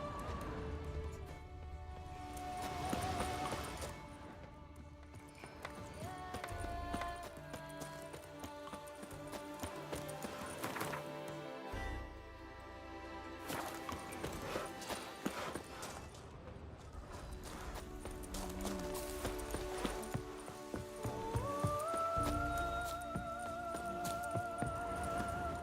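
Roach, the horse in The Witcher 3, gallops with a steady clip-clop of hooves running beneath a dense, loud bed of game music.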